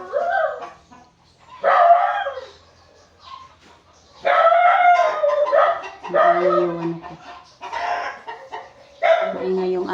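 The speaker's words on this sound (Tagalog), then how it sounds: "Maingay yung aso ko kasi po dito sa bahay namin" A pet dog at home in the Philippines barks in a few loud, close bursts separated by pauses, with a voice talking around them and what may be a chicken clucking nearby.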